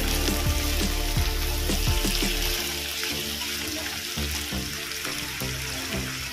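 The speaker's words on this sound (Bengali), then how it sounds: "পেঁয়াজটাও ভেজে নেবো ভালো করে।" Chopped onions fry in oil after potatoes in a pan, making a loud continuous sizzle with several sharp clinks and scrapes near the start.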